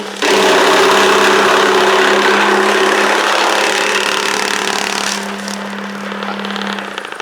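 A Baahubali chaff cutter chops a bundle of green fodder in a loud, continuous mechanical whir with a steady motor hum, the grinding roar easing slightly toward the end but running throughout with no talk.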